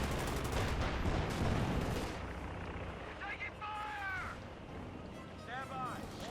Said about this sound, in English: I immediately met with a burst of bullets from above